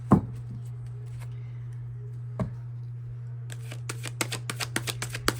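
Tarot cards being shuffled and riffled in a quiet room, a single sharp snap early, another at mid-clip, then a quick run of crisp rapid card flicks toward the end over a low steady hum.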